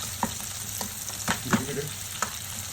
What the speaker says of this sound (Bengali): নাড়াচাড়া দিয়ে হালকা পাতলা একটা ভাজা ভাজা করে সবজিটারে